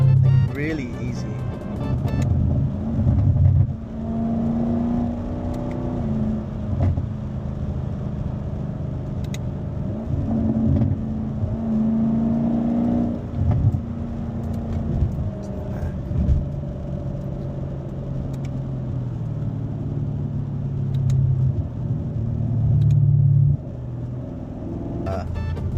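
A 2019 Camaro SS engine and exhaust while driving, a deep rumbling V8 that swells and drops with throttle changes and brief revs, with someone talking over it from inside the car.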